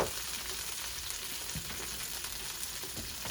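Broccoli sizzles and fries steadily in a hot pan, a dense continuous crackle at even loudness with a few small pops and no voices.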